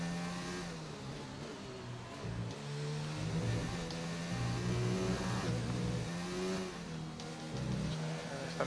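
A McLaren Formula One car engine in the racing game F1 2019 drones continuously at high revs, its pitch rising and falling through gear changes and braking, with faint talk under the engine noise.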